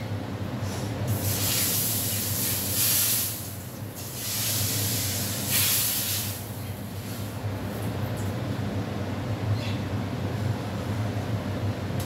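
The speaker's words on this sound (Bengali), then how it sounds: "দেখো এটা ঢেলে দেবো ডালের মধ্যে।" Hot tempering poured into lentil dal sizzles and hisses loudly, a continuous close spray-like crackle that surges in waves over twelve seconds without letting up.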